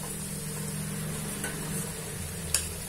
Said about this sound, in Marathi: खरपूस तळून घ्यायची किंवा शॅलो फ्राय म्हणू शकता तुम्ही याला